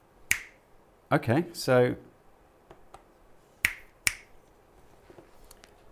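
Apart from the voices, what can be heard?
finger snapping to test a clap switch in an LED kit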